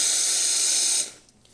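A Lelit Mara X espresso machine's hot-water spout hisses with a steady, bright spray for about a second, then cuts off, leaving faint machine noise.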